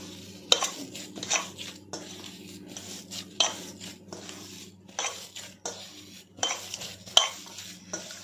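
Malai kofta mixture mashed and mixed by hand in a bowl, a close run of soft squelching stirs and light clinks against the bowl, repeating in an uneven rhythm.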